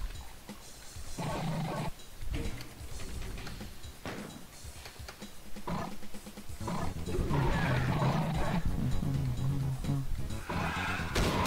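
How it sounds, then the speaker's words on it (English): Zombie monsters growling in Doom with the Realm667 mod. Loud, guttural roars and snarls come in repeated waves, close and layered over steady game noise, growing denser toward the end. "The sound of the zombies"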